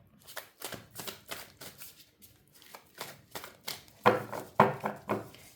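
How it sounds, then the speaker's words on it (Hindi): Large tarot cards are shuffled by hand in a steady series of close, crisp riffling bursts, with a couple of louder slaps near the end. "ये कार्ड्स ना शफल होने में बहुत प्रॉब्लम करते हैं, क्योंकि मेरे हाथ छोटे पड़ जाते हैं और ये कार्ड्स बहुत बड़े हैं।"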